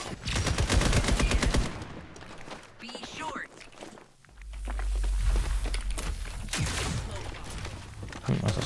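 Gunfire in the video game FragPunk, a rapid burst of automatic shots up front followed by scattered shots, footsteps and mechanical clicks, with someone talking over much of it.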